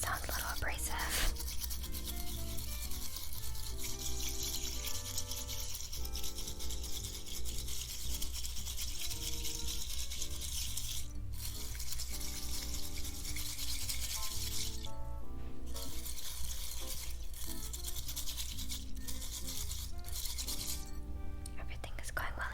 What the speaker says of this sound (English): now a little bit of whisking there. It does sound a little abrasive.